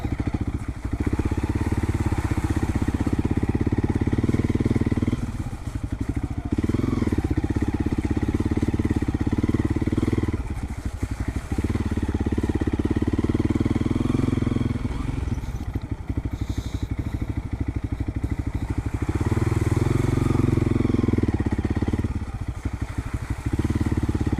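A motorcycle rides along a rough trail toward a forest waterfall in rural Tak, Thailand, its engine droning loudly and continuously with rises and dips as it climbs and bumps over terrain, with a rider's voice speaking intermittently.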